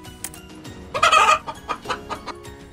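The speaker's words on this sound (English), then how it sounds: "Chicken." A chicken clucks close by, one louder drawn-out squawk followed by a run of short, uneven clucks that fade and space out toward the end, with no speech.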